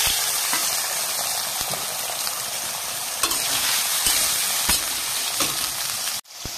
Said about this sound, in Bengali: তেল গরম হয়ে গেছে, এর মধ্যে আলুটা দিয়ে দেবো।